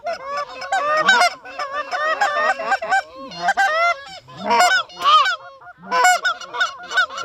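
A low-flying flock of lesser geese honks loudly and close, overlapping calls rising and falling in ragged bursts with brief gaps between them.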